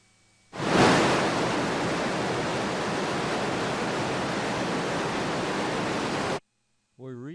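Waterfall at Logjam Creek in Alaska, a loud steady rush of falling water that starts abruptly, holds for about six seconds and cuts off, followed by a brief voice.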